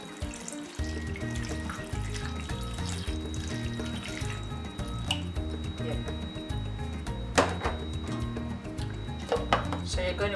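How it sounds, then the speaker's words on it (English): Tap water runs steadily into a cooking pot with cut vegetables, a continuous close splashing stream that lasts throughout, with kitchen clatter and background music underneath. "So I'm going to add water to it."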